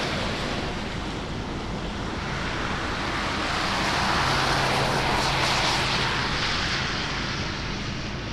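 A UPS Boeing 747 cargo jet taxis at Anchorage airport, heard as a steady, loud, broad roar with wind buffeting the microphone. A low hum swells briefly near the middle.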